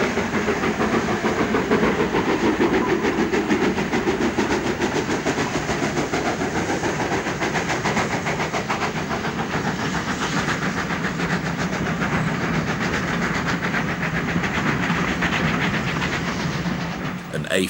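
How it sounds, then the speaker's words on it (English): A King's Cross to Grantham stopping train on the main line rolls past close by, a loud continuous rumble with rapid wheel clatter and hiss held steady throughout, no voices over it. "the 8:15 King's Cross Grantham stopper is the first down mainline train of the day"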